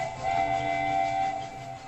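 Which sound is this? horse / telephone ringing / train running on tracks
train running on tracks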